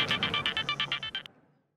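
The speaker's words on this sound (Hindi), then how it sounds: "अरे देखिए तो सही किसका फोन है।" A phone ringtone plays a rapid run of bright, evenly spaced electronic tones for just over a second, then cuts off abruptly, close and clear with no talking.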